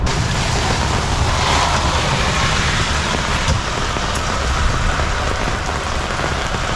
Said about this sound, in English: It's raining. It's really raining.